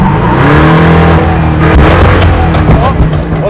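A 1970 Chevelle with a twin-turbo Duramax diesel engine accelerating hard, a loud close engine roar with rising revs, while a person talks over it.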